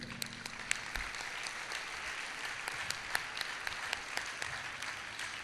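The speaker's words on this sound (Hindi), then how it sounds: "आप ज़ोरदार तालियां बजाएं" An audience at a Christian convention in Sialkot claps steadily for several seconds to welcome a pastor to the dais, a dense, even roar of many hands with a few sharper claps standing out.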